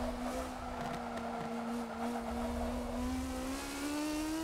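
A race car engine in a racing video game drifting sideways on cold tires, a steady high-pitched engine drone that rises slightly in pitch, heard clearly and alone.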